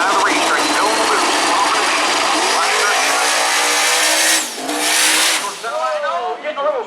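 A 1986 Mustang drag car accelerates hard down the strip at a racetrack, its loud engine note climbing through gears, then fading briefly before another roar, while an announcer talks over it.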